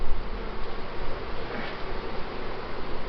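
Honeybees buzzing around a hive, a steady dense hum filling the whole clip at moderate level with no voices.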